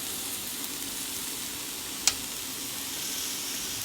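Chicken and vegetables sizzle steadily in a pan, a soft, even frying hiss that runs throughout with one brief sharp tick near the middle.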